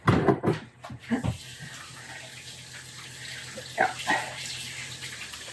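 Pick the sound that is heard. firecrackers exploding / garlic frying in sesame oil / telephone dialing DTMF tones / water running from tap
water running from tap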